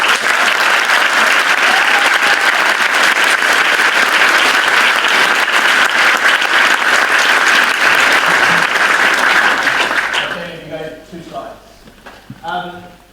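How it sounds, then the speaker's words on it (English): A conference audience at the Nottingham Entrepreneurs Conference gives sustained, loud applause for about ten seconds before it fades and a person begins speaking. "Let's just give a quick round of applause for them."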